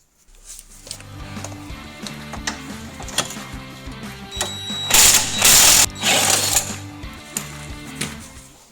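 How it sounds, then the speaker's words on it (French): An impact wrench with a 21 mm socket removes a front control arm bolt on a Fiat Bravo 2, giving two loud rattling hammering bursts over steady background noise. "on va prendre une douille de 21, moi j'ai pris à choc parce que je suis un peu feignant. Et on va venir retirer ce boulon."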